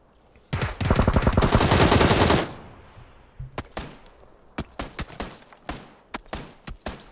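Video game gunfire: a dense automatic burst lasting about two seconds, then a string of sharp separate shots and cracks at irregular intervals, loud and close.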